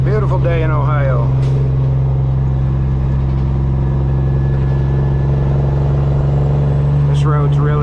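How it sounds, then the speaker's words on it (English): A custom Peterbilt truck's engine with straight pipes rumbles steadily while it bounces over a rough two-lane road in Ohio, with someone talking over the low drone. "This road's really, really rough, so you're gonna hear it. You hear all the bouncing and stuff."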